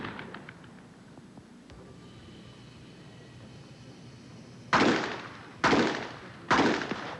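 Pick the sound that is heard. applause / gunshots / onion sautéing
gunshots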